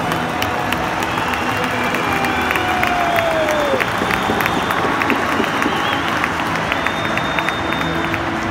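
Celtic fans applauding the players in a stadium crowd, a dense, steady wash of clapping and crowd noise with scattered whistles and shouts throughout.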